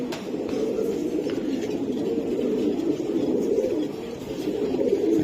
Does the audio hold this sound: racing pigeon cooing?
yes